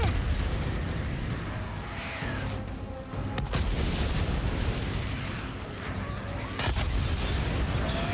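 Heavy booming blasts from a shotgun in Days Gone, fired during a fight against a zombie horde, loud and dense with roaring background chaos and a couple of sharp transient cracks.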